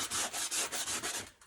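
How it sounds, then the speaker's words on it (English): Sanding block rubbing the edges of a Dollar Tree sign, a quick run of about eight rhythmic back-and-forth scrapes, close and steady, fading away at the end with no speech. "I've got my sanding block here."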